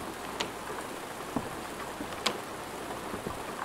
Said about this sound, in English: I want to see how the rain sounds